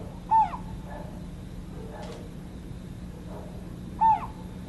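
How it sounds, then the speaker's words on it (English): A collared scops owl calls at night in a dark forest, two short hoots spaced about four seconds apart, fairly clear against a quiet steady background hum with faint rustles between them. "With help from their parents, collared Scops owl chicks become accustomed to life in this pitch-black world."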